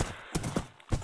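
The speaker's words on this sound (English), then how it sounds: "Oh gosh, horse." Horse hooves clip-clopping in a survival video game, a few quick uneven steps close by, with no talk over them.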